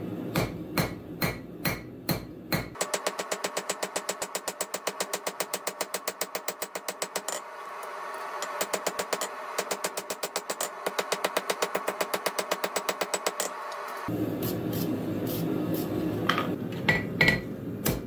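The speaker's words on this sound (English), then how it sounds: "let's start off here just with the flattening hammer." A flattening hammer strikes a steel crowbar being forged into a knife blade, ringing in steady rapid rhythmic blows, close and loud, with brief pauses between runs and a roaring forge or background hum at the end.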